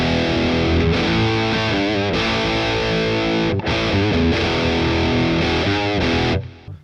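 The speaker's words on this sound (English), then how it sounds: "Alright, now we're going to move on to some rock tones. For that, I want to bring in my new Les Paul." A Les Paul electric guitar played through a Boss Katana amp with a distorted rock tone, chords and riffs ringing out loud and continuous, with a brief cut near the middle before stopping at the end.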